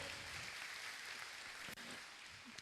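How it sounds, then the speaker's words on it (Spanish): A church congregation applauds steadily throughout, a dense, continuous wash of clapping at close range with no pauses. "Denle un aplauso al Señor si usted lo cree."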